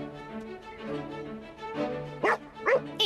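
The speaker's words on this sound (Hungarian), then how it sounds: "Te vagy a legjobb kutya a világon." A dog making soft whimpering yips followed by two short, close barks near the end.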